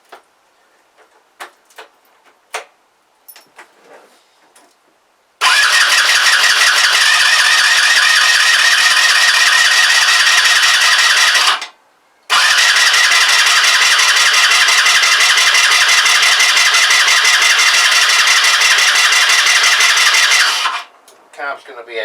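A Kymco Agility 125 scooter being started inside a shed, with a few faint clicks and then a loud, close, rattling cranking whirr that runs for several seconds, cuts out briefly, starts again and fades.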